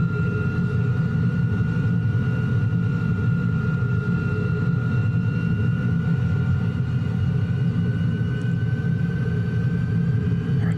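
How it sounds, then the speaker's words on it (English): Aeroplane engine running loud and steady at close range as the throttle is gently opened, a heavy continuous low rumble with a faint rising tone and no talk. "Notice what I'm having to gently open the throttle because the heat surges."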